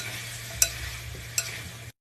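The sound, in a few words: meat frying with onion, garlic, ginger in ghee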